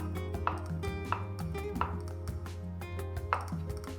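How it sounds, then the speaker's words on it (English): A knife chops mushrooms into thick slices on a board, about five distinct, evenly spaced cuts ringing out over a soft background hum. "So good thick cuts of mushrooms."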